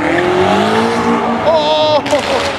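BMW Alpina car driving past at a cars and coffee meet, a loud, close engine note that sweeps upward in pitch, then cuts off abruptly near the end, with voices talking over it.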